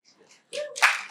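An audience at a live art-scene event at the Palladium breaks into clapping after a quiet pause, a brief, close burst of applause that swells quickly and stays loud to the end.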